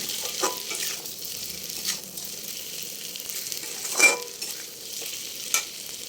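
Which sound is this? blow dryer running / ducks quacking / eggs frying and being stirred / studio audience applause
eggs frying and being stirred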